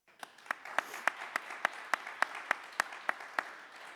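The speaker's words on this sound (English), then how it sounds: "We want to thank them and give them a round of applause right now" Applause from an audience at a SecDSM security meetup, thanking a sponsor: sharp, evenly spaced claps ring out in a steady rhythm for several seconds over a soft wash of room noise.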